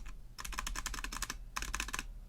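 Rapid bursts of typing on a Velocifire M87 mechanical keyboard for Mac, two clusters of quick, clacky keystrokes close up, separated by a brief pause.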